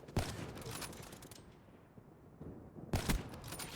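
Sharp, loud sniper rifle shots in Call of Duty Black Ops 3, two distinct cracks separated by a few seconds of quieter in-game ambience.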